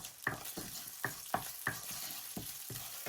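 Fenugreek and fennel seeds sauté in a pan for a Tamil egg curry, with a soft steady sizzle broken by regular scraping stir strokes, close and fairly quiet.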